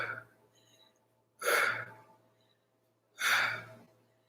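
Two forceful breathy exhales, close and evenly spaced with quiet pauses between, from a person during a kundalini yoga kriya exercise involving elbow-to-knee movements.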